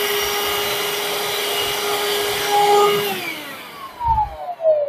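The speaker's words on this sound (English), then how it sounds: "It has a very good suction." A Parkside 20V cordless vacuum cleaner runs steadily with a strong, even whine. It winds down near the end, and a few bumps and knocks follow.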